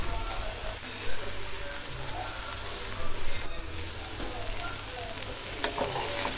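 Bitter gourd (kakarakaya) pieces sizzle steadily in hot oil as they are stirred with salt and turmeric, with scraping stir sounds and a few louder crackles over a continuous frying hiss.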